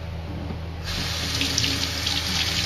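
A 78rpm record is rinsed of gunk under a running tap, the water switching on abruptly and then splashing steadily close by.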